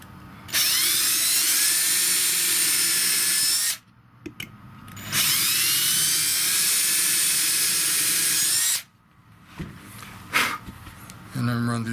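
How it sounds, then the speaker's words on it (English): A power drill bores screw holes for an Adjustanut in a Strat-style guitar, two long loud whining bursts close by with a short revving stutter between them and faint handling after. "I'm going to drill these other two."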